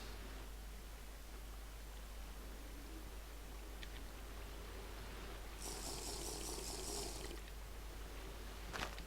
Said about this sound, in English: Fight through all this water.